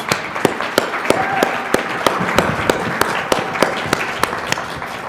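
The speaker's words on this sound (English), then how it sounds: "Let's have another round of applause for those great presentations." An audience applauds panel presentations at a discussion event, with loud, sharp individual claps standing out in a regular rhythm over a thinner spread of clapping that carries on evenly throughout.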